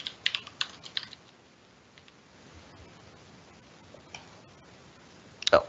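Someone types on a computer keyboard, with a quick burst of close, crisp key clicks at the start, a few scattered taps in a quiet middle stretch and a final sharp flurry at the end.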